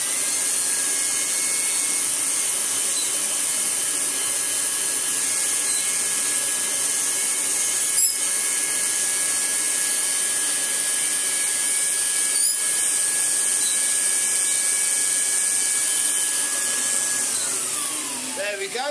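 A Kirby Heritage Turbo vacuum runs with its turbo groom hair clipper attachment, giving a loud, steady high-pitched whine throughout, with a couple of brief clicks and a falling pitch at the end as it winds down.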